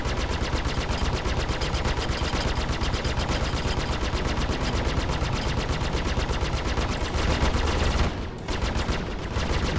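Spaceship guns in Star Citizen fire in a continuous rapid stream of dense, loud automatic bursts, then cut out briefly near the end before the firing resumes.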